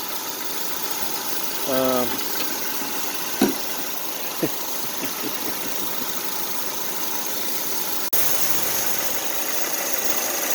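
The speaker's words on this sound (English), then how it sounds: "the compressor's still running, still engaged, the clutch is still engaged, the compressor's still turning" A car's AC compressor runs with its clutch engaged while the engine idles during an AC condenser repair, giving a steady low hum throughout with a few brief clicks and a short voice partway through.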